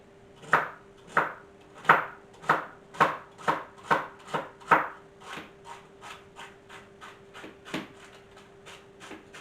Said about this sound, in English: You can hear your knife hitting your cutting board.